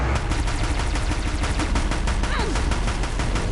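Rapid automatic gunfire in the video game Horizon Zero Dawn, a dense, loud stream of repeated shots with no pauses, close and steady for the whole stretch.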